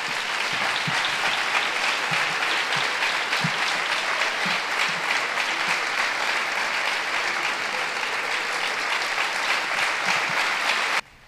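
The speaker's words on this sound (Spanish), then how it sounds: "Un aplauso" An audience at a Red Cross humor night tribute applauds warmly, a steady sustained clapping lasting about eleven seconds before cutting off abruptly.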